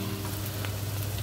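Green chilies frying with sliced onions in a pan for a prawn mappas, a short, steady close sizzle with a low hum underneath.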